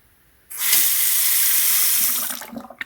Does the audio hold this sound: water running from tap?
yes